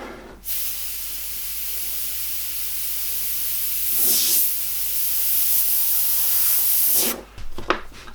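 An airbrush sprays paint onto metal rivets in a close, steady hiss that swells once midway and cuts off near the end with a few short bursts.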